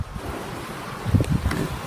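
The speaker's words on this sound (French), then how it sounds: "le vent commence à souffler" Storm wind gusts at Montoison, France, buffet the microphone with a low, rumbling roar, building into stronger bursts toward the end.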